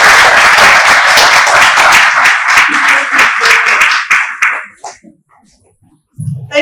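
A conference audience at a business of law event breaks into loud, dense applause that thins into scattered claps and fades to near silence, with a faint voice returning at the end.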